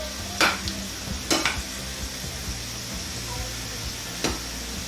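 Onions browning in hot oil for a Punjabi kadhi pakora tadka give a steady hiss of frying, broken by a few sharp clatters of stirring against the pan.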